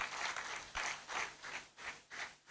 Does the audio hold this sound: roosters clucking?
no